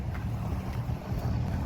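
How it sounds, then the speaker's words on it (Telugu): A fishing boat approaches the shore at a city beach in Kuwait, heard as a low, rumbling engine drone mixed with gusty wind buffeting the microphone, steady and fairly faint, with no speech. "ఇక్కడ చూడండి ఇంకో పడవ వస్తూ ఉంది ఇక్కడికి దగ్గరికి."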